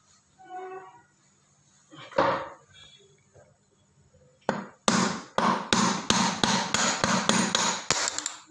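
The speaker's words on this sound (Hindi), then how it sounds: "वहाँ से मैं उसको हथौड़ी से मार रहा हूँ, यहाँ से बेरिंग बाहर आएगी" Hammer blows knocking a bearing out of a front-load washing machine drum: a single strike, then a rapid series of about nine loud, close metallic impacts in a steady rhythm, with no talking.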